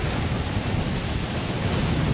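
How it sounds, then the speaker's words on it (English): Steady, loud rush of wind noise in the video game Death Stranding, roaring continuously with no breaks, broadband and unchanging throughout. "why is it so windy up here?"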